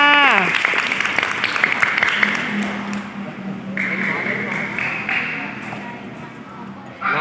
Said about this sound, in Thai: เด็กๆปรบมือเป็นกำลังใจให้เพื่อนค่ะ